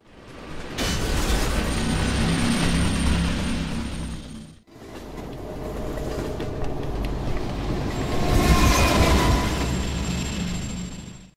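A loud, continuous rumble of a train in the video game Terminator Salvation, with rattling and metallic clatter, a brief break midway, then a heavy roar and a high squeal near the end.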